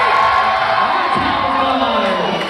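Wedding guests at a Jewish wedding scream and cheer together on cue, a dense, loud crowd roar sustained throughout with whoops and children's shouts mixed in.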